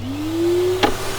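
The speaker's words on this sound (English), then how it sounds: "will it operate the Hoover?" A Hoover vacuum cleaner running off a car's power supply, a steady motor whine rising slightly in pitch over a low constant hum, with a brief clunk near the end.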